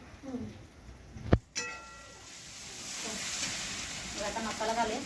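Masala spices hit a hot pan and set off a steady, rising sizzle that follows a sharp clatter, with someone speaking nearby.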